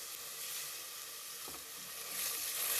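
Ground masala paste with a few mint leaves frying in a pan for lamb trotter soup, a close, steady hiss and sizzle with a brief stir and a louder burst at the end.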